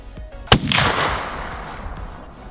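A single sharp rifle shot fired with 162 grain ammunition at a target 52 yards away outdoors, a loud crack followed by a rolling echo that fades over about two seconds.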